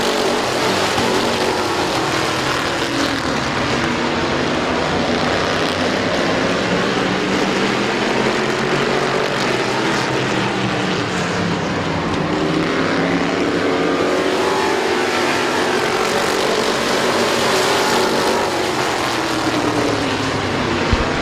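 Race cars circling Midvale Speedway, a continuous loud roar of engines rising and falling as cars pass, with revving layered throughout.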